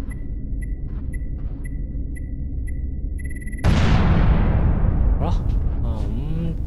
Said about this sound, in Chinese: 炸开了一个通道，